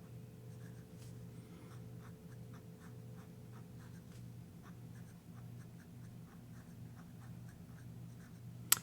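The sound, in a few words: pen nib writing on bank paper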